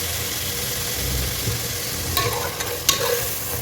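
Onions fry with whole spices in a pan for beef dum biryani, giving a steady close sizzle with stirring scrapes. A few sharper clinks and scrapes come near the end.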